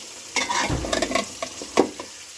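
Bottle gourd is sautéed dry in a pan, with a few quick, close spatula scrapes and pushes over a low sizzle in a short burst of stirring, and nobody speaking.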